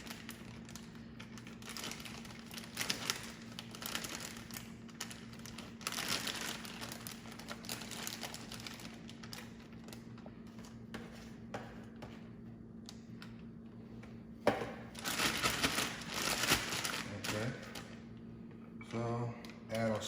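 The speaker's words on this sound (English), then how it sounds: "we're just gonna get our Ziploc bag, and we're just gonna put this steak inside first" Plastic zip-top bag crinkling as a raw steak is slipped inside for marinating, a soft, steady rustle with occasional louder crumples and handling noises, close and fairly quiet.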